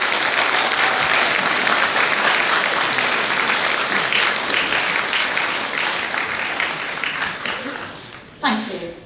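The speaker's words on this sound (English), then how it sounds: "I'd like you to give a round of applause for all those that have supported you" A graduation ceremony audience claps together in a large hall, a dense sustained wash of applause that holds steady, then thins and fades out near the end with a brief louder burst just before it stops.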